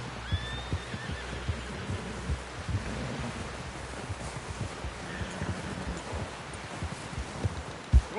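Horse in the Red Dead Redemption 2 video game gives a neigh early on amid a busy bed of rustling and hoof clatter, with low thumps recurring throughout.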